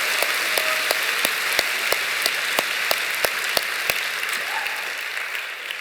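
A church congregation at a Friday night worship service applauds volunteers, with a broad, steady roar of clapping from a large crowd and a few sharper individual claps standing out near the front.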